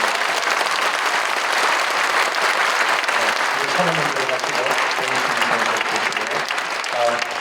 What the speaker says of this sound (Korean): 우리 인사드릴 때 큰 박수로 한번 격려해 주시기 바랍니다